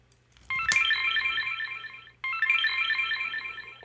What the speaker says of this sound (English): so we get double Nokia sounds